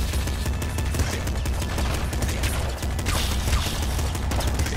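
Dense, continuous rapid gunfire from the top-down shooter Nuclear Throne, a loud, steady barrage of overlapping shots and mechanical game effects with no pauses.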